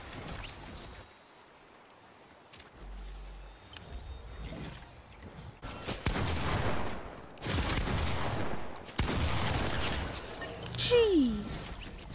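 Weapon fire in Fortnite, with several loud bursts of shots arriving in clusters in the latter half, following a quieter stretch, and a voice talking over parts of it.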